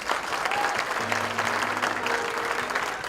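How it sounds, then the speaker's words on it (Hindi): An audience at a reunion gathering breaks into steady, sustained applause, many hands clapping together at moderate volume with no pause, a faint tone and hum underneath. "जोरदार तालियां"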